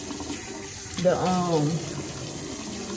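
Warm water runs steadily from a bathroom tap into a sink for face washing, a continuous near hiss that rises in the middle, with a brief spoken word under it.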